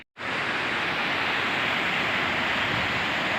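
Waterfall at Klatak beach, heard from right beneath the falls: a loud, steady, unbroken broadband roar of pouring water that sets in almost at once and holds without change throughout.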